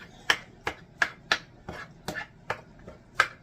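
Rapid knife chopping of canned Rotel tomatoes in a pan, about nine crisp, evenly spaced close knocks with wet, squishy edges and no talking.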